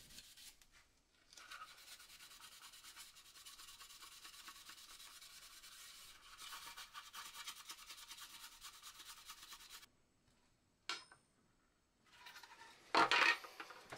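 Soft, steady rubbing of thousand-grit sandpaper on the back of a 40-year-old Fluke 8021B multimeter case, in long faint strokes with brief pauses and a few small clicks near the end.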